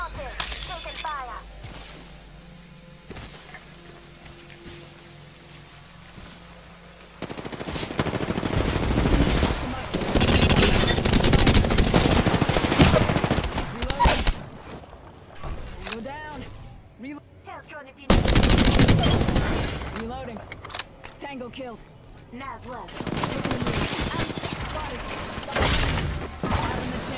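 Rapid video-game gunfire bursts and sharp shot cracks crowd a busy firefight in which the player is pinned down, loud and dense after a quieter opening, with a voice talking now and then over the shooting.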